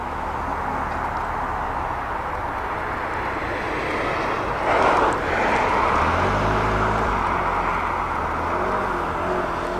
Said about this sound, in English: There's a little beauty heading towards us, a little Austin.